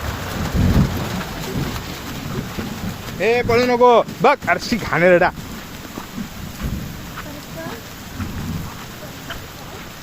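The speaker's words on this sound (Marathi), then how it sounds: "आता पावसाची सुरुवात झाली आणि चमकत आहे." Steady rain falls with rumbling thunder just after a summer hailstorm in rural Konkan, loud and close, while people talk briefly in the middle.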